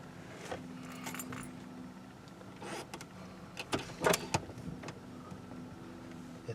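The column shifter of a 2004 Ford Explorer clicks back into park, with light metallic clunks and jingling keys over a faint hum. Scattered short rattles rise to a cluster of sharper clicks near the middle.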